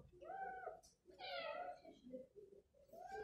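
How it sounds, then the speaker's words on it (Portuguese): A stray cat meows repeatedly nearby, several drawn-out meows with short pauses, fairly quiet, with faint voice in the background. "apareceu um gato de rua aqui"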